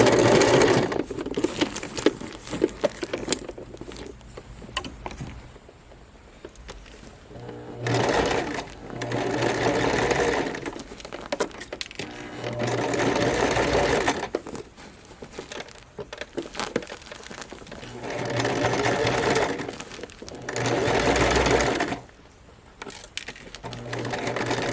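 Sewing machine stitching a pillow cover, running in steady bursts of rapid mechanical stitching separated by short pauses, close and fairly loud.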